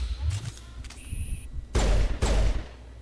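Rifle fire in the Mass Effect video game, with two heavy, booming bursts close together near the end. Before them come quieter game effects and a brief whining tone.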